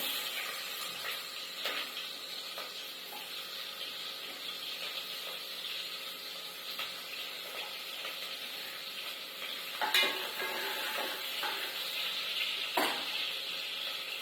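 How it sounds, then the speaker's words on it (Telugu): Sliced onions sizzle in hot oil in a home kitchen pan for a mutton and potato curry, a steady close frying hiss broken by occasional clinks of a spoon stirring against the pot. "నూనె అయితే వేడెక్కింది. ఇప్పుడైతే ఉల్లిగడ్డ వేసుకున్నాము."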